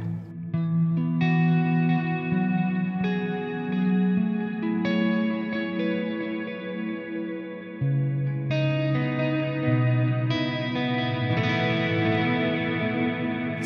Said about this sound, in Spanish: la primera reverb es más suave y la otra es más ambiental